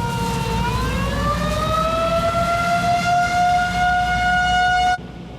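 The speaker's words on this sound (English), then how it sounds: "Tornado sirens just went off just minutes ago." Tornado warning sirens sound across Portland during severe weather, a loud wailing tone that rises in pitch, holds steady and then cuts off abruptly.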